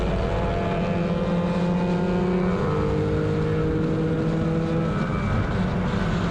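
Racing motorcycles in 250, 300 and Moto3 classes passing the start-finish line during a track race, a loud continuous engine roar with sustained whining tones and no gaps.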